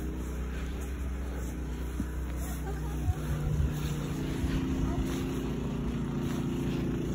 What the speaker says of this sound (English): we're gonna get hit by the snowblower